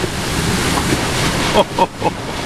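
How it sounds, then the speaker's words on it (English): Hurricane Florence's inner eyewall wind roars and buffets the microphone as a sustained, loud rushing gust, with a person speaking briefly over it. "Look at this gust."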